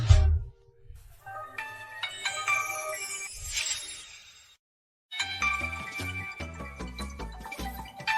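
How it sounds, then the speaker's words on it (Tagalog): A melodic phone ringtone plays a bright chiming tune, pauses briefly, then continues with a rhythmic beat underneath, fairly close and clear. "Sagutin mo muna ang telepono. Paano kung may importante?"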